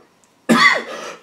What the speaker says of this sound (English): And that cough comes out of nowhere.